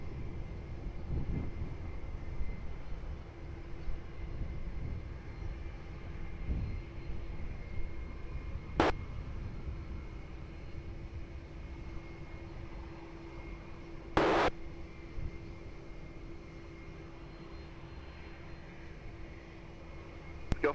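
An aircraft taxiing at Lisbon Airport, a low, faint continuous engine drone heard from afar, with a steady hum and a couple of brief sharp clicks.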